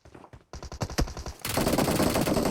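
Gunfire in the PUBG Mobile battle royale game: a string of sharp, loud single shots followed by a dense rapid automatic burst, close and punchy, with no talking.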